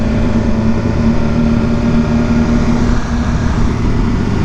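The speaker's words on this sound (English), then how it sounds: "there's always like cool cars leaving" Engines of cool cars pulling out of a car meet, including what looks like an old-school race car, drone as a steady, loud low rumble close by with no break, no voices over it.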